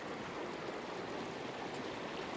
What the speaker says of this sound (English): We've reached our first stream crossing. Pretty big river